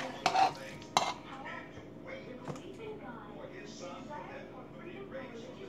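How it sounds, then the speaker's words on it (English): Potato salad seasoned with black pepper is stirred in a bowl, giving a few sharp scrapes and clinks of a utensil followed by softer mushy stirring, all under a speaking voice. "as I stir my potatoes, they're not really getting broke. I'm just doing a little light stir"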